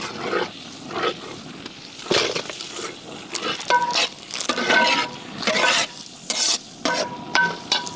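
Sliced onions sizzle in a pan as they are stirred together with chili powder for a chicken dish. The frying hiss runs steadily under repeated close, rhythmic scraping strokes of the spoon.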